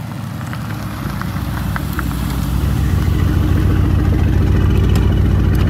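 A Mercedes-AMG GT R engine and exhaust rumble at a steady idle, the deep drone swelling gradually louder as the car draws nearer, with no talk.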